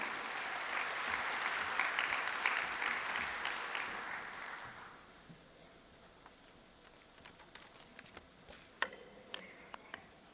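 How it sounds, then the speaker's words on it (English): At the inauguration of Semicon India 2025 in Delhi, a large hall audience applauds to welcome a speaker, a loud wash of clapping for about five seconds that thins into scattered claps and small clicks. "With a round of applause, let's welcome Mr. Kai Beckmann"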